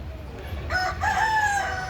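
A rooster crows at a Goa temple where chickens live, a drawn-out cock-a-doodle-doo rising over a steady low background rumble, clear and moderately close.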